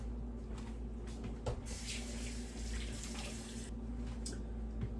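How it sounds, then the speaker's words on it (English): Hot water runs from a kitchen tap into a pan as a steady, fairly faint rushing stream, with a couple of soft knocks. "I'm going to get 4 cups of hot water."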